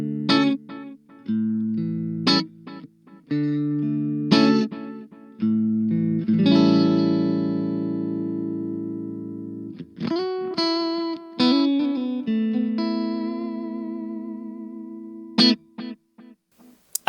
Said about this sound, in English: We have a delay.